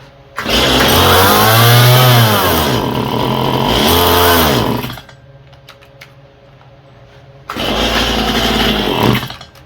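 A Stihl MS171 chainsaw runs on choke with a carburetor problem, loud and close. The engine rises and falls in pitch for about five seconds, drops to a rough idle, then revs up hard again.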